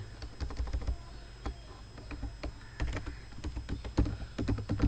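Fingers typing on a computer keyboard, irregular bursts of close key clicks with short pauses between runs, moderately loud and alone.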